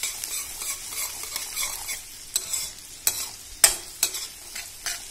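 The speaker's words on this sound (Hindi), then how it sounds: "लहसुन को थोड़ा सा हम थोड़ा सा हल्का सा ब्राउन करेंगे" Garlic fries in a pan with a soft, steady sizzle while a utensil scrapes and stirs it in several sharp, distinct strokes, close and clear with no voices.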